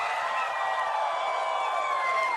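A convention panel audience at PAX East in Boston cheers and yells steadily, a dense wash of voices holding at a constant loudness throughout.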